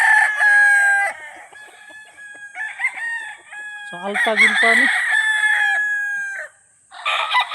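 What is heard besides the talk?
chickens and roosters crowing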